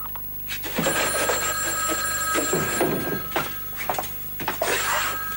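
An old-style telephone bell rings in repeated bursts, loud and close, with brief gaps between rings.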